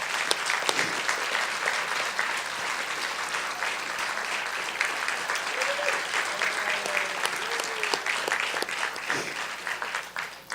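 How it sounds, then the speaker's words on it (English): Sustained audience applause at a TriMet FX2-Division transit grand opening ceremony, steady and dense clapping from a crowd that carries for about ten seconds before tapering slightly at the end. "just give them a round of applause."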